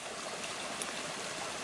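A creek running outdoors in winter, a steady soft rush of flowing water with faint trickling, even and moderately quiet for the whole stretch, no voices.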